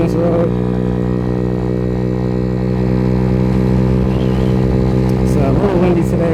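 Small 50cc scooter riding on a Florida road near the water, a steady buzzing engine drone with harmonic whine running loud and continuous throughout, with faint wind.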